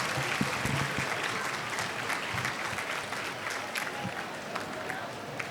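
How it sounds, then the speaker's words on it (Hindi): A congregation at a Catholic pilgrimage Mass applauds, sustained dense clapping at moderate level with crowd murmur beneath, continuing throughout without a break. "आप सबकी भरपूर तालियों में"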